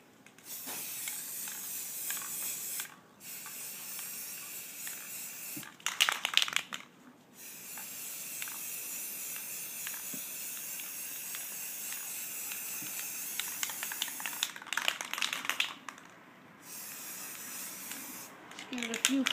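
Spray gun or can laying a tan base coat onto a weapon for snake-skin camo, a steady close hiss in several long bursts separated by short pauses.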